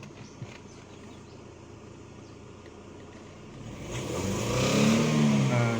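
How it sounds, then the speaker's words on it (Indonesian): A BMW E46 engine with a fault causing sluggishness and vibration at certain rpm idles quietly, then rises into a rev under throttle near the end, moderately loud and close with no talk. "Sekarang kita mau coba gas."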